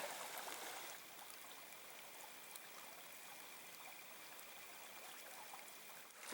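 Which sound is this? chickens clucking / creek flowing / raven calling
creek flowing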